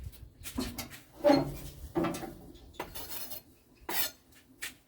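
A kitchen knife chops chili on a board in a few scattered, quiet taps and scrapes, up close, with small clinks between them.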